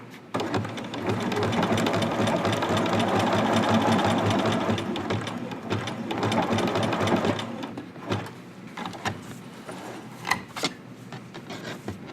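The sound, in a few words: sewing machine stitching a side seam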